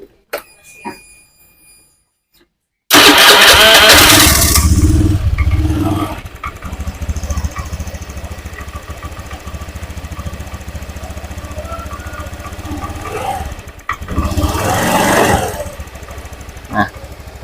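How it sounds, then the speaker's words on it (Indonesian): A Honda Beat FI fuel-injected scooter engine fires up after a brief quiet moment, then runs loud and steady at idle with a couple of revs, close by with no talk. "kemudian kita hidupkan motornya."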